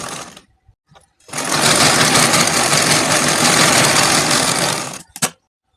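A sewing machine stitches blouse lining cloth in one continuous loud whirring run of about four seconds, close up, framed by brief clicks and handling noises before and after.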